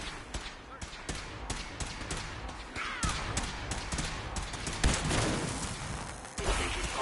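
Rapid, dense gunfire from a Fallout 4 battle crackles continuously, with sharp close shots over a steady roar of combat and occasional voices mixed in.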